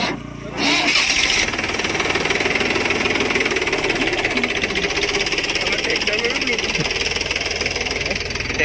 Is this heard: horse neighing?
no